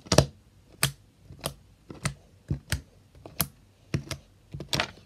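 Homemade slime is poked repeatedly by fingers, giving about nine sharp, wet clicking pops at an uneven pace, close and fairly quiet, with no talking.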